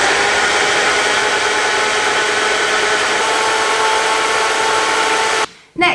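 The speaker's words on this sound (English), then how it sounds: "And then just blend until all the bigger pieces seem to have broken down." A blender whirs oats and water into oat milk with a loud, steady, close motor drone that runs evenly before cutting off abruptly near the end.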